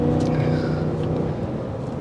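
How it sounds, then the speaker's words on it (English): A 2023 Cadillac Escalade Sport Platinum V8 accelerating hard in first gear gives a deep, steady engine roar that rises slightly in pitch over two seconds, heard loud and close from inside the vehicle. "You get a soundtrack out of that V8."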